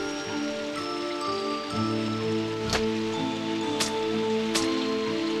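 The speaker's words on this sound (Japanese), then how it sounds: "その日は午後から雨が降り出したので、ムーミンは家の中で遊びました" Steady rain falling outside a house on an afternoon, a soft continuous patter with a few sharper drops, heard alone at moderate level under a faint musical background.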